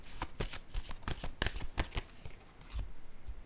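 Playing cards handled and flicked, a quick irregular series of sharp papery snaps and riffles, close and fairly quiet, with no talk over them.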